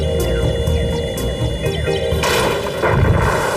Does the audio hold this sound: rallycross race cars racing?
no